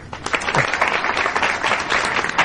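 Studio audience applause on a Pakistani comedy talk show, a dense, steady wash of clapping filling the room at moderate loudness for a couple of seconds.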